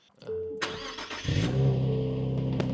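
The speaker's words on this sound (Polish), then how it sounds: "Piękną ma animację odpalania ten Nissan." A Nissan car starts up: a brief whir and crank, then the engine catches around the midpoint and settles into a steady, fairly close idle hum with a small click near the end.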